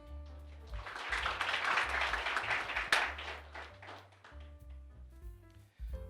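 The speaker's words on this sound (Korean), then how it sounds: "장기 근속자분들께 다시 한번 큰 박수 부탁드립니다." A company townhall audience gives a round of applause for long-serving employees, with steady clapping swelling and then tapering off over background music with a deep bass line.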